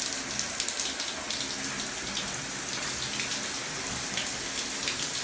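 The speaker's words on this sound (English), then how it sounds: "And we're running the shower." A bathroom shower runs continuously, giving a steady close hiss of spraying, splashing water with no break from start to end.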